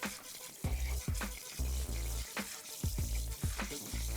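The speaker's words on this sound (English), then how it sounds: "Put some fresh water in the fish to clean it." Bursts of water splashing and pouring over whiting fish being rinsed in fresh water, arriving in several uneven surges about every half second, close and moderately loud, with no one talking.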